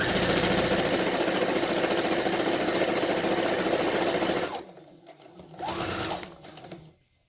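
Sewing machine stitching steadily along a seam allowance on a square of fabric, a loud continuous run that stops after about four seconds, followed by shorter bursts of stitching with quiet gaps between.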